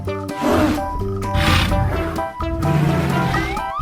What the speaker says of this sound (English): Dinosaurs.